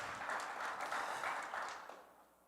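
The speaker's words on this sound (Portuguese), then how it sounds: "Você pode aplaudir ao Senhor pela palavra de Deus?" Church congregation applauding, a steady wash of clapping that holds for about two seconds and then fades out quietly.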